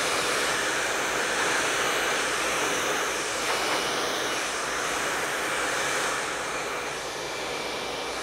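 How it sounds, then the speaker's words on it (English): A blow dryer roars steadily and loudly throughout while hair is styled with a brush for a punk rocker look, a continuous broadband whoosh with no talking. "Using the blow dryer and the brush as our tools."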